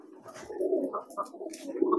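Soft, low cooing of racing pigeons repeats in short rounded phrases, fairly close, with a few faint higher chirps from other birds in the background.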